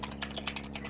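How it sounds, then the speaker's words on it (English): Quick keystrokes on a computer keyboard, played during a Roblox session, tap out in a brisk, uneven patter, soft and close with no talking. "Sorry, I'm typing."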